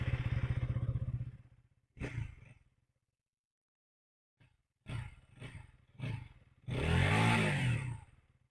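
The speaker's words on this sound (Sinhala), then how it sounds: "පොඩ්ඩක් ස්ටාර්ට් කරලා බලමු." KTM 160 motorcycle engine starting and running: a loud rumble fades out, then, after a silent gap, comes a series of short throttle bursts and a final sustained rev, all close by.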